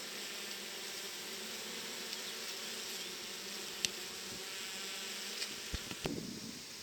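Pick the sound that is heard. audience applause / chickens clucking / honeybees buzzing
honeybees buzzing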